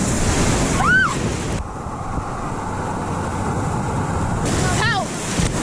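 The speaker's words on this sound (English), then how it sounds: "the waves are too big right now" Big ocean waves crash and wash steadily onto a beach, loud and near, with wind rumbling against the microphone and brief whistling or squealing voices at the start and end.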